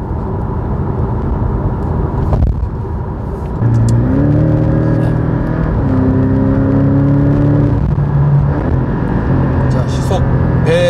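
Porsche 718 Boxster GTS flat engine rising in revs after a downshift to second gear while cruising around 100 km/h, a loud steady drone that swells and climbs in pitch, heard from inside the cabin under someone talking.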